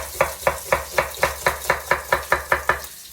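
A knife slices an onion into thin strips on a cutting board, giving eleven evenly spaced crisp chops in a quick steady rhythm, close and clear with no talking.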